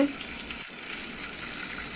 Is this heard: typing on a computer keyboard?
no